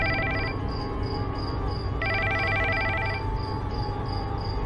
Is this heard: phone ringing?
yes